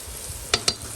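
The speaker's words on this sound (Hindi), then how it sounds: "ताकि मसाला जो हमारा है इसके साथ ही अच्छे से इसकी दही के साथ ही भुनाई हो जाए।" Mutton cooking with yogurt and masala in a karahi, a low steady sizzle with two sharp scraping clinks of a spoon against the pan midway.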